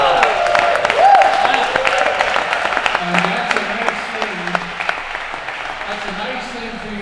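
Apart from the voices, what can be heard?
audience applause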